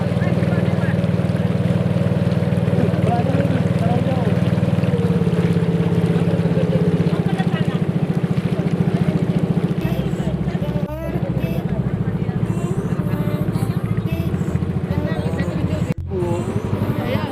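A steady low motorboat engine drone runs throughout, chugging close by on Rawa Bento swamp, with water and wind noise layered over it.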